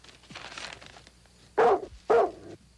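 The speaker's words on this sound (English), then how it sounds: "what's that dog doing?" A dog gives two sharp, fairly close barks in quick succession after some faint rustling and a soft whimpering sound, with no talking.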